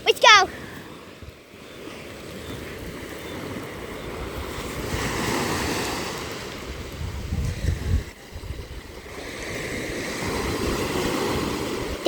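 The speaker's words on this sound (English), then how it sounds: "Today you are going to listen to 5 minutes of wave sound effects" Ocean waves washing onto a beach, a broad swelling rush that rises and falls in slow surges, with wind buffeting the microphone and a brief voice at the start.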